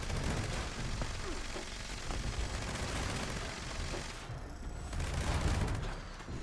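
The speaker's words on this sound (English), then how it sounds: "It just seems like it's fast because I'm shooting fast." Rapid, steady gunfire from a high-capacity drum-fed weapon in Fallout 76, a dense continuous rattle running for several seconds at a constant level, with no voices over it.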